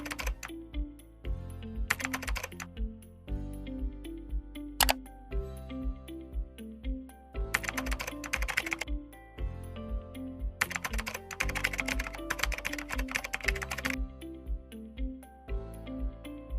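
Computer keyboard typing while an online registration form is filled in, heard as bursts of quick clicks over steady background music.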